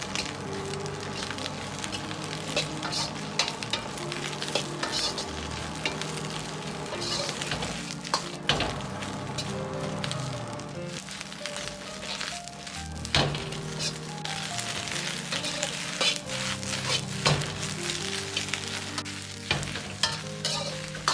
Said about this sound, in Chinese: 油热后倒入圆白菜煸炒， 保持中小火，大概炒至1分半钟左右。